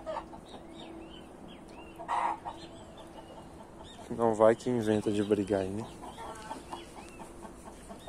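Chickens on a farm, among them roosters and a few hens, cluck in short bursts, with one louder run of calls midway, while someone talks nearby.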